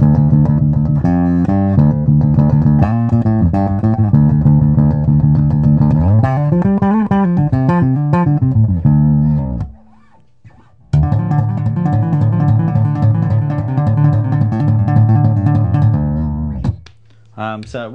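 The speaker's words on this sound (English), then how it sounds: "Classic kind of P bass front pickup sound." Music Man StingRay 5 five-string bass with an EMG front pickup soloed and tone fully up, playing a loud, continuous harmonic line with a brief pause near ten seconds, no talking.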